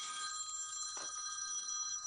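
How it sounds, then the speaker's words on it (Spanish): A telephone ringing with a steady, high electronic tone throughout, fairly faint and heard alone with no talk. "justo en este instante me sonó el teléfono"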